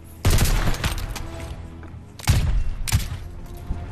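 Gunfire in Call of Duty Vanguard: two or three loud, close bursts of rapid automatic shots separated by brief pauses.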